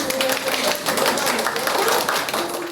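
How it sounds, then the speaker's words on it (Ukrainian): Colleagues clap for social protection office workers receiving awards at a ceremony in Dnipro, a steady burst of close, dense applause filling the moment, with faint voices beneath. "під оплески колег нагороджують робітників правобережного управління соцзахисту"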